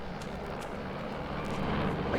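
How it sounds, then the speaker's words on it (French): Helicopter flying overhead in a jungle setting, a steady, dense broadband rotor-and-engine roar that holds at a constant level without pause, fairly close and loud, with no voices over it. "Un hélicoptère."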